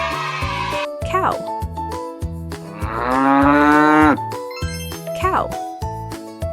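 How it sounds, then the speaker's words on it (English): A cow gives one long, loud, drawn-out moo that swells and fades over a cheerful children's music backing with jingling tones. "Cow."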